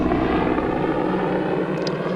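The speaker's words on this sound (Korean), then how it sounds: "첫날 이후로 처음으로 헬리콥터를 보입니다" A helicopter passes high overhead in flat open countryside, heard as a steady, continuous low rotor drone that stays at an even level throughout, with no voices.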